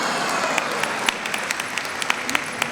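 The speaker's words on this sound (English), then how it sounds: "If you're happy, you're a pilot, clap your hands." Audience at a Pilot International convention general session in Rochester, New York clapping along to a children's song, with scattered uneven claps over a steady room murmur.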